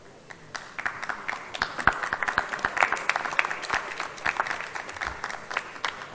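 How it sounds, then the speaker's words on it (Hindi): Award winners at an international astrological conference receive steady, moderately loud applause from the audience, with a dense patter of many hands throughout and a faint crowd murmur beneath. "सब तालियों से उनका उत्साह बढ़ाने की कोशिश कीजिए हर अवार्ड के अंदर."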